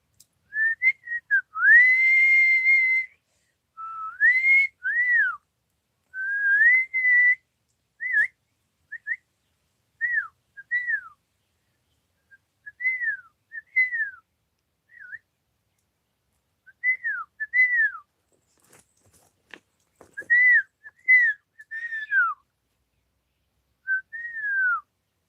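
A person whistles a tune of short, bright, rising-and-falling notes in separated phrases, clear and close, with brief pauses between bursts.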